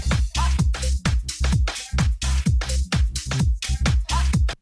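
A soulful modern house groove plays loud and dense, with a low bass line locked to punchy kick drums and bright hi-hats and percussion in a steady four-on-the-floor pulse.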